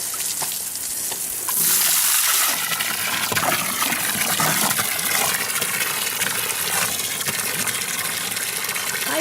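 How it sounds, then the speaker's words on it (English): Water gushes steadily from a hose while a horse is bathed outdoors, a loud continuous spray that starts abruptly and keeps rushing with slight changes in pitch. "let's see if I can give him a bath"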